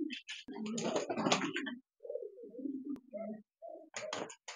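Indian Lotan pigeons coo in a series of soft, low, rolling calls, with short breaks between them, close by. Brief rustling and flapping come at the start and end.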